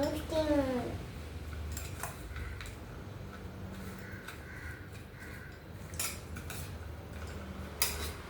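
Grated coconut and country sugar are stirred together in a pan with a spoon, producing quiet, intermittent scrapes and light taps over a low background hum. A voice talks over the stirring.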